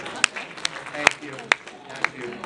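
A few scattered, separate hand claps from a church audience at Calvary Chapel, sharp and fairly close, with talk and room noise between them.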